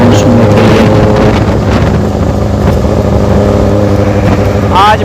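A 2023 Benelli TnT 600GT motorcycle fitted with an Ixil 55 exhaust, ridden out on an evening road: a loud, steady engine drone heavily buffeted by wind rushing past the microphone throughout.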